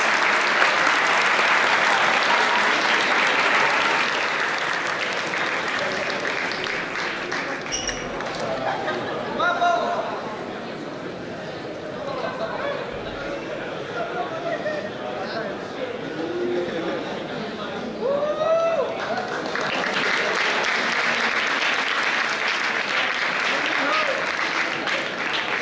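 Sustained audience applause at a university campus festival gala in Alcoi as the basketball championship winners go up for their trophy. Loud, dense clapping fills the hall, thins slightly in the middle under crowd chatter and voices, then swells again.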